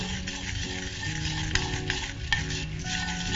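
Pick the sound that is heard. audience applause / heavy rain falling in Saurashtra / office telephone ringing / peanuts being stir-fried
peanuts being stir-fried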